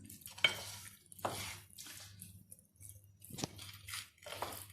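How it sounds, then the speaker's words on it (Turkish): A spoon stirs a star-shaped pasta salad with dill in a bowl, giving several separate soft scraping and clinking strokes with quiet pauses between them and a low background hum. "karıştırıyorum"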